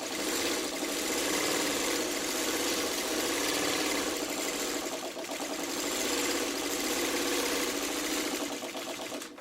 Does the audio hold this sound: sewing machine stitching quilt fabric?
yes